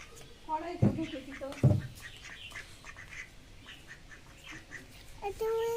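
A duck at an outdoor picnic quacks loudly twice close by, then gives a few fainter calls while people talk in the background.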